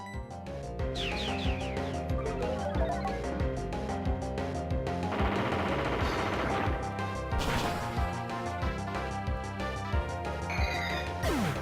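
Rock Slide attack effect from Pokemon Platinum: a dense, continuous clatter of crashing, thudding rock impacts mixed with bright game chimes, loud and steady throughout with no voices.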